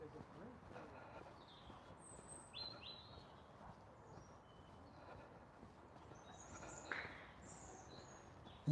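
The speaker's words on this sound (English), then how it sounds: "the noise of the birds in the trees nearby." Small birds chirp and tweet in short scattered calls from trees near a riverside park, fairly faint over a steady outdoor background hum.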